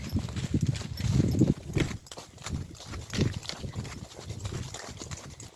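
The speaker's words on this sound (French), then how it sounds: "On part au trot, Doudou?" A Lusitano horse trots out on a country ride, its hooves clip-clopping in a steady, close rhythm outdoors.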